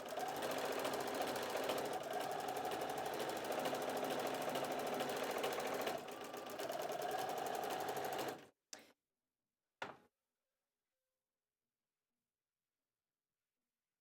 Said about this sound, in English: so I'll just take 6 stitches and then a nice pleat